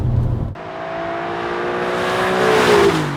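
Alfa Romeo 147 GTA engine revving under way, a loud close drone climbing steadily in pitch after a brief dip, with no talking.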